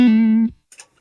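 Single sustained guitar note played through a Line 6 POD HD300 on its Blackface Double preamp model, clean and harmonically rich, ringing for about half a second before being cut off, followed by a couple of faint string noises.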